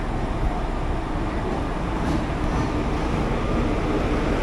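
Amritha Express, hauled by a WAP-4 electric locomotive, rolling into Palakkad Junction with a steady rumble of wheels on rail and a broad noise of station and train that holds throughout.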